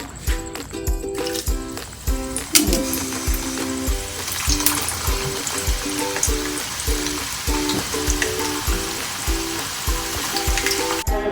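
French fries crackle and bubble loudly in hot oil during a second frying, a dense continuous sizzle with occasional stirring clatter and faint background hum.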